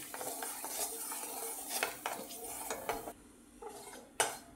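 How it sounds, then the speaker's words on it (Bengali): Whole cumin seeds frying in hot oil in a kadai, a soft crackling sizzle under repeated metallic scrapes and clinks of a spoon stirring against the pan, close and fairly quiet. "কড়া তেল দিয়ে দিয়েছি, তেল গরম হয়ে গেছে। এতে আমি গোটা জিরে ফোড়ন দিয়ে দেবো।"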